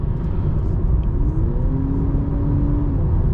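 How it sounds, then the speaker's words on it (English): A 2023 Honda Accord hybrid's four-cylinder engine hums steadily under a low road rumble, its pitch climbing smoothly as it revs up in sport mode, continuous and fairly close. "You can hear it kick the engine on and rev the engine more so when you're in sport."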